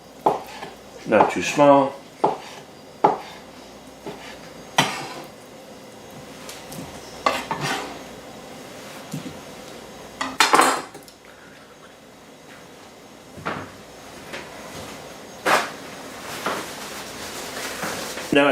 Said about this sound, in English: I'm going to cut these up into chunks